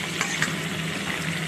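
Pieces of pork sizzle steadily in a hot pan, a continuous close crackling hiss with a couple of faint clinks, no voices.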